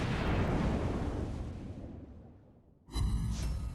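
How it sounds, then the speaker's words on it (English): A warship in World of Warships Blitz fires armor-piercing shells at a North Carolina battleship: a long, loud booming rumble that fades, then a sharp fresh blast near the end. "Now currently I'm firing AP at this North Carolina"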